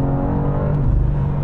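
A BMW M2 G87 accelerates hard, its engine a loud, close, rising drone with strong harmonic tones throughout the short burst.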